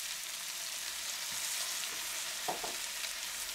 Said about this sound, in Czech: Naleju asi jednu polívkovou lžíci tmavé sojové omáčky.